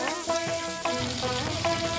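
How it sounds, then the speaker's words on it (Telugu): Large-cut onion pieces sizzle and fry in a kadai, a soft steady crackle with faint stirring scrapes, fairly quiet and close. "ఇదే బాండీలో పెద్దగా కట్ చేసిన ఉల్లిగడ్డ ముక్కలు కొంచెం వేగాక"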